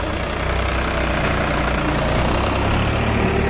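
New Holland 3630 tractor engine running at a tractor pulling contest: a loud, steady, dense diesel roar close by, unbroken throughout, with no speech.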